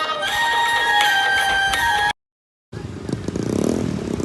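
Motorcycle and auto-rickshaw engines rumble during a bike and rickshaw rally for Shivaji Maharaj Jayanti, with a droning horn-like tone at first, then a sudden silent gap before the engine noise resumes.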